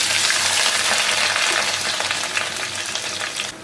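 Curry leaves, shallots, garlic, ginger and green chili fry in hot oil with a loud, dense, continuous sizzle and crackle, close up and steady, easing slightly toward the end.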